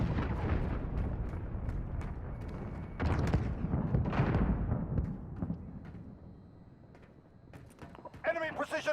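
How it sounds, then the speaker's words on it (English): Enemy cruise missile strike explosions in Call of Duty: Modern Warfare (2019), heavy booming blasts and crackling gunfire rolling in loud bursts, easing off, then a voice speaks at the end. "Enemy cruise missile incoming."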